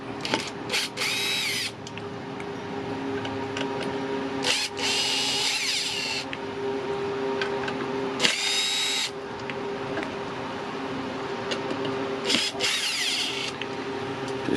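Power drill driving out the small base plate screws on a Bosch 1617 router, several loud whirring bursts of a second or so separated by pauses, close up over a steady background hum.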